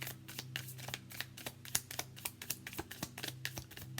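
Tarot cards are shuffled by hand in quick, rhythmic riffling bursts, crisp and close, repeating steadily over a faint low hum.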